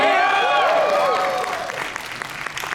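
A convention panel audience cheers and applauds loudly, a dense wash of clapping with whoops and shouts that swells at first and then gradually thins out.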